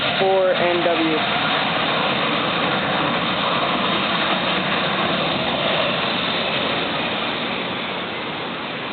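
A Delta A320 jet taxis at an airport in the Cayman Islands, a steady loud engine roar and rumble that fades slightly toward the end, heard from a spotting position.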